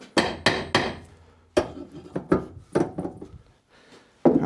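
Hammer striking a stuck rear wheel hub on an MEV Exocet, a series of sharp metallic knocks in irregular bursts, three quick blows first, then scattered single hits, close and loud.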